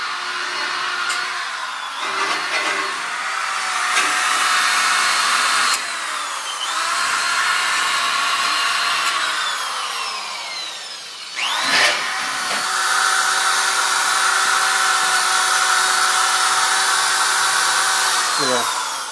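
Loud, continuous whine of a power sander working a transmission differential on a 1969 Mustang coupe, pitch shifting as pressure changes, with a brief pause midway and faint talk underneath.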